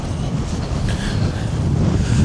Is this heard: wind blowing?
yes